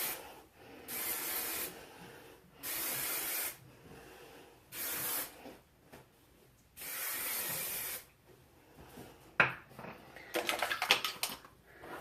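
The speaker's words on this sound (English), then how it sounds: "So I'm going to spray in my sponge spray." Sponge hair spray is sprayed onto hair in several long, steady hissing bursts separated by short pauses, close and loud, followed by quicker rustling and brushing sounds.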